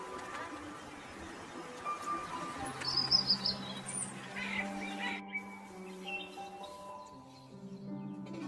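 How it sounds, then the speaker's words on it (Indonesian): Birds chirp and tweet in short bursts from tree branches over a quiet outdoor village background, with a soft sustained tone underneath. "Dan suara burung pun masih setia bersenandung dari dahan ke dahan."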